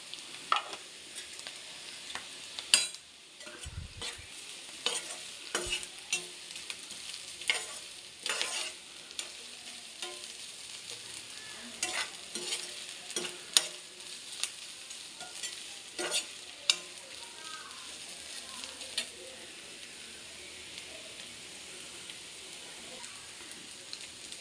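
Grated coconut sautés in a pan for curry leaf chutney with a steady, quiet sizzle, and a spoon scrapes and stirs it in irregular clinks and strokes close by.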